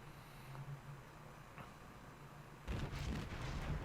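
Heavy naval guns boom in World of Warships as a ship returns fire, a low rumbling blast and rolling report arriving after a quieter stretch of engine drone, with no talk.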